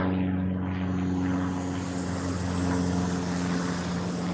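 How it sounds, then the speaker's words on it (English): A propeller-driven airplane passes overhead, its steady droning engine hum loud and continuous throughout with no voices. "Airplane."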